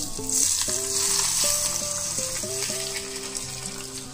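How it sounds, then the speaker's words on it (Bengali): Hot oil carrying fried panch phoron and dried red chillies poured over potatoes, a bright steady sizzle that goes on for several seconds, with a few clear tonal pings running beneath it. "এখন আমি গরম তেলটা আমি আলুর ভিতরে দিয়ে দেব।"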